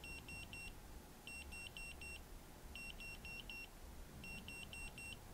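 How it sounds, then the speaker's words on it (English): An electronic measuring tool used in place of a tape measure beeps faintly in repeated bursts of quick, high, even tones, with short gaps between the groups. "And you can see it's a long beep."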